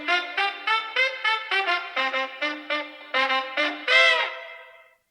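A short melodic sample from a funk classic plays alone as a run of rhythmic, bright staccato notes, ending in one longer held note that fades out.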